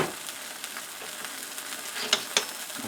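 An egg fries in a pan for a pork roll, egg and cheese bagel sandwich, a steady close sizzle with a few sharper crackles and pops near the end, no voices.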